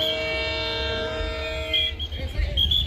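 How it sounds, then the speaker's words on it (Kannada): A train pulls into Sindhanur station for the flag-off of a new Sindhanur–Yeshwantpur service, sounding a long steady horn that fades into rumbling noise and crowd bustle. The horn is fairly faint and distant. "ಉದ್ಘಾಟನೆಗೆ ಟ್ರೈನ್ ಬರ್ತಾ ಇದೆ."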